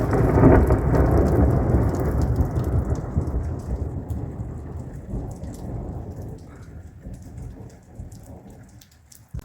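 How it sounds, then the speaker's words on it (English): A heavy thunderstorm with rain pouring down, a loud rolling thunder rumble at the start fading into steady, dense rainfall that slowly softens. "Crazy weather. It's getting very soaked out here."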